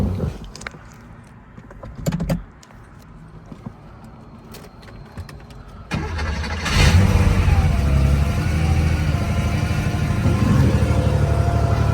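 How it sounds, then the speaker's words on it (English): A 1978 Porsche 911 Targa engine cranks from cold and catches, then settles into a loud, steady idle with a rev, after a few quiet clicks and clatters beforehand. "so let's do a cold start."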